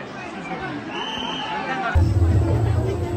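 A dense crowd at the Ambubachi Mela at Kamakhya fills the air with a steady wash of overlapping voices and murmurs. The hubbub grows louder and heavier in the second half.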